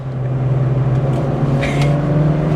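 A Renault Twingo Mk1 accelerates along a road, its engine a steady, loud droning hum with a strong low tone heard from inside the cabin, rising slightly without any talk.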